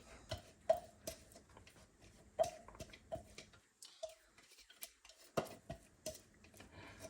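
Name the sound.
garlic being scraped into a pan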